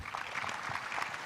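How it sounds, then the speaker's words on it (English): Audience applause for conference panelists at a big data conference, a steady broadband patter of many hands clapping for the whole short stretch, moderately loud with no talk over it. "I will ask for a first applause for our panelists."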